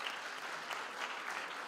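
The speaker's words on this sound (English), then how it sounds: "Can you also give her a round of applause?" A university graduation audience claps steadily and evenly, a dense wash of applause from a sizable crowd, with no voices standing out.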